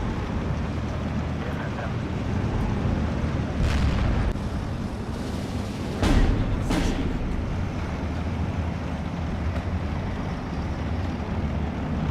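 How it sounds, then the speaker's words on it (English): Mortar shells land in Steel Division 2, a World War 2 battle, with several distant booms, two sharp blasts close together near the middle, all over a continuous low battlefield rumble. "That's like multiple mortars."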